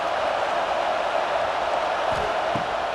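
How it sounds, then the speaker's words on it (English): Stadium crowd in the CFB 26 college football video game, Florida vs. Florida State, a steady dense roar of many voices filling the whole stretch with a couple of faint thumps. "This crowd bringing the energy and noise early."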